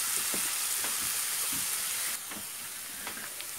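Onions sizzle steadily in a karahi for chicken Shinwari karahi, a loud broadband hiss with faint scraping stirs, dropping slightly in level partway through.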